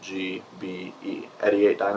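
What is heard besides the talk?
No everyday noises stand out.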